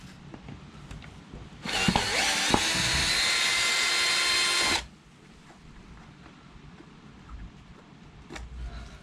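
A power drill-driver backs screws out of a rotten, loose wooden door frame, giving one close, loud, steady whirring burst of about three seconds before the room goes quiet.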